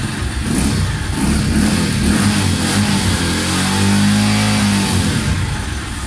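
A Víctor Avance R 110 motorcycle engine starts up and runs steadily, its low rumble rising in pitch partway through as it revs, loud and close with no talking.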